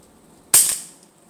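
A single sharp .22 air rifle shot smacks into a coconut target, one crisp loud crack with a short ringing decay, heard alone without talk.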